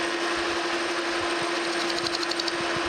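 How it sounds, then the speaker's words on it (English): A metal lathe turns a gear blank of extruded material with a steady, loud, continuous machine hum and faint rhythmic ticking throughout. "So let's fire up the lathe."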